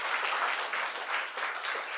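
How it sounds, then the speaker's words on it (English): A room full of people at a university kick-off event claps in a steady, dense round of applause lasting about two seconds, with no voices standing out. "We'll give him a round of applause."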